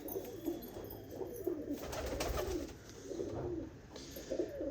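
Pigeons in a loft cooing repeatedly, soft low rounded calls overlapping at close range against a quiet background.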